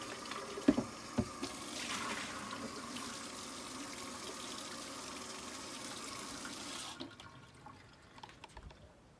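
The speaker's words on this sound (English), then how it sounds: "I'm gonna rinse this out" Water runs and splashes into a Brandless blender jar as it is rinsed out, a steady gushing fill with a few drips at the start, falling quiet near the end.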